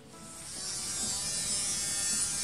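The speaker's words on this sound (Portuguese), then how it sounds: "Aí eu vou vir com a minha broca" Electric nail drill fitted with a tungsten bit grinding off a fiberglass nail, a high steady whine that builds slightly in loudness and runs on alone without voices.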